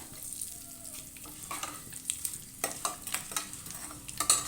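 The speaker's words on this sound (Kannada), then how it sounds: "ಒಂದು ಸ್ಪೂನಷ್ಟು ಜೀರಿಗೆ ಒಂದು ಸ್ಪೂನ್ ಮೆಣಸು ಹಾಕ್ಕೊಂಡಿದ್ದೀನಿ ನೋಡಿ ಸ್ವಲ್ಪ ಗಮ್ಮನವರೆಗೂ ನಾವು ಎಣ್ಣೆನಲ್ಲೇ ಬೇಯಿಸ್ಕೊಳ್ಳೋಣ" A spoonful each of cumin seeds and black pepper fry in oil for dal khichdi, with a soft steady sizzle broken by repeated scraping stir strokes that grow busier toward the end.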